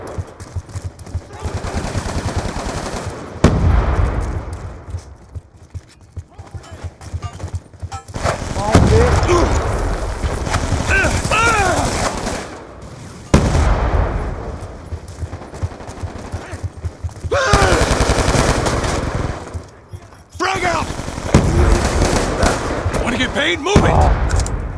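Multiplayer gunfire in Call of Duty Black Ops 2 during a team deathmatch on the Aftermath map, with repeated bursts of automatic fire and sharp single shots spread over the whole stretch, some loud and close, others quieter, among game voice callouts.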